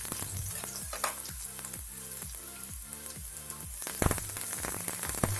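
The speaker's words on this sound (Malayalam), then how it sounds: "നമുക്കിതിലേക്ക് ഡ്രൈ ചില്ലിയും കറിവേപ്പിലയും ഇട്ട് കൊടുക്കാം." Dry chillies and curry leaves crackle and sizzle in hot oil for Kerala lemon rice, a dense close popping and hissing that carries on steadily with a sharper burst near the end.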